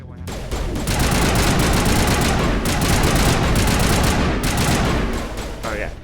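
Rapid turret gunfire rattles almost nonstop in the Mass Effect video game, a dense, loud burst of shots lasting several seconds with brief dips, ending as it tapers off.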